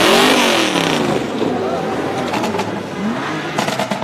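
New-model cars roll past in the Pulaski parade, engines revving loudly and close, with crowd noise and voices mixed in over the passing motors.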